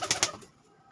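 Pigeons at a large pigeon farm in Nabadwip give two short, close coos or calls in quick succession, then fall quiet, with no talking.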